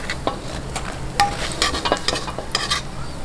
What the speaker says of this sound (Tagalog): Okay, haluin na po natin ang squid balls.